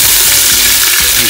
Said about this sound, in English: And give it a sizzle round.